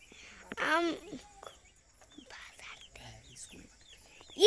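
Chickens cluck close by: one loud, drawn-out call, then scattered softer clucks and rustles, with quiet voices speaking in between.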